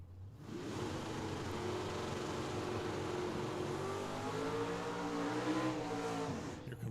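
A second-generation Camaro with a bright red rally stripe drag racing at Tucson Dragway. Its engine gives a steady, loud drone that rises in pitch over about seven seconds, then eases off at the end.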